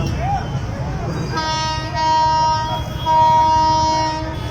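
A train rumbles past in Ludhiana with a long blaring horn sounding in two extended blasts over the steady rolling noise of the cars.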